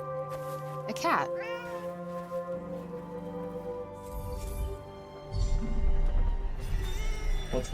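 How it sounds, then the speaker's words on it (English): A cat in the game Forspoken meows several times in short, rising wails amid a tonal music bed, with a voice speaking around the calls. "A cat."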